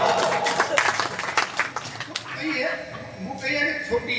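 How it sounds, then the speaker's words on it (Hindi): Audience applause at a Hindi kavi sammelan poetry recital in Chhoti Sadri, with scattered clapping and cheering from the crowd mixed under a host's voice over about four seconds. "ताली बजाओ एक बार जोरदार"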